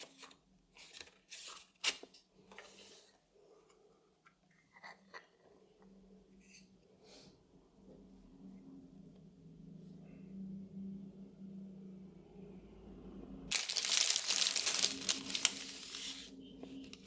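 Vintage-style paper wrapping handmade Ukrainian watercolor palettes being torn and crinkled, scattered soft rustles and tears building to a loud, close burst of ripping paper near the end.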